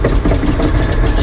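A green tractor engine cranks and turns over on a battery booster pack, a loud continuous low rumble filling the whole moment without any voices.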